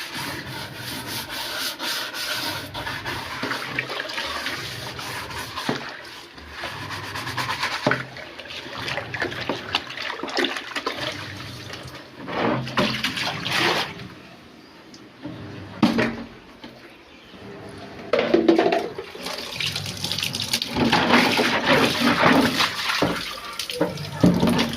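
Running water rinses away dirty water while something is scrubbed underneath, with uneven rubbing and splashing close by in bursts and pauses.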